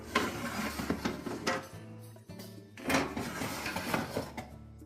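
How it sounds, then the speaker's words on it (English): Metal oven racks pulled out of a Whirlpool oven during a bake element replacement, giving a series of close scraping clatters and rattles with a brief pause midway before another burst of sliding metal noise. "we'll begin by removing both the oven ramps just so that we have more room to work"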